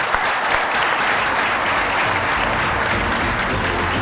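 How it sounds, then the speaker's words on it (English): An audience at a fire and safety conference session in Dubai applauds its speakers with dense, steady clapping that fills the room at a loud, even level for the whole stretch. "please give them a warm round of applause for a job well done"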